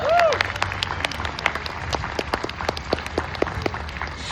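Crowd at an outdoor Arizona March for Life rally claps for a speaker, with sharp, separate hand claps scattered thickly across the moment and a brief whistle-like tone near the start.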